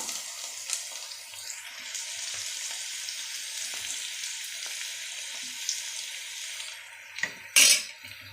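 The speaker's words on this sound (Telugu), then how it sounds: "ఇది కొద్దిగా వేగనిద్దాం" Egg masala fries in a pan, a steady close sizzle with occasional scraping stirs and a louder clatter near the end; no talking.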